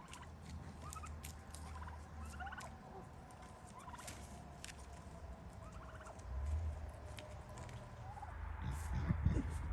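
Farm birds on a small two acre farm that also keeps pheasants call repeatedly, with gobbling bursts and scattered chirps over a steady outdoor background, plus some low rustling and thumps near the end.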